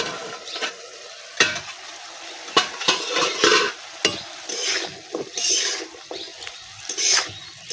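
Food fries in a pan while a utensil stirs it, sharp scraping strokes over a steady sizzle, coming in irregular bursts at close range.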